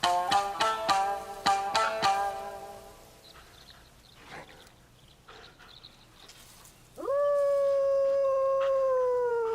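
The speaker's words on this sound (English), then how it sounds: "Anyone can howl." In the video game Ghost of Yotei, a wolf-like howl rises and holds on a long steady tone near the end. It follows rhythmic plucked string notes and a quieter stretch.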